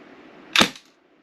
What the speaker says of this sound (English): let's just do a couple of shots on semi.